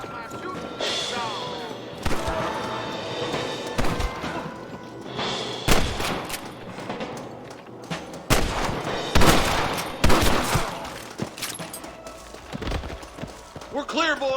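Gunfire in a Red Dead Redemption gameplay battle, with repeated sharp, loud shots and volleys at irregular intervals, some close and some overlapping, set against game background sound and occasional voices.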